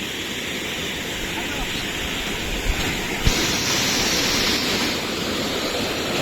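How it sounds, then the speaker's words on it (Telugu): Steady, dense rush of falling water fills the whole stretch, broad and constant like a nearby waterfall, with a couple of faint knocks partway through. "ఇది వాటర్ ఫాల్ గైస్"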